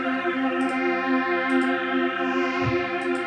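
Casio CZ-style phase distortion synth plugin playing a sustained, harmonically rich chord with a light chorus, steady and loud, with faint brighter blips recurring about once per second on top.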